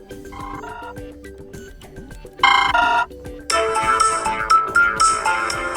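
Pre-installed ringtones on a Blackview BV6600 smartphone play one after another, bright electronic melodies that switch abruptly, turning loud and dense near the end, with no talking.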